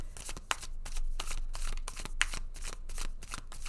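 Tarot cards are riffled and shuffled in quick, rhythmic bursts of crisp flutters and papery slaps, close and clear with no talking.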